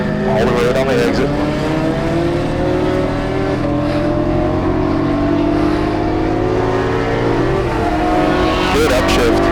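A BMW E92 M3 on the Barber Motorsports Park race track, its engine loud and close as revs climb steadily and then drop with an upshift, while someone talks over the engine throughout.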